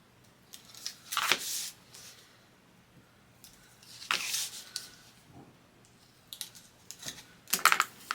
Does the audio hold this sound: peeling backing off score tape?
yes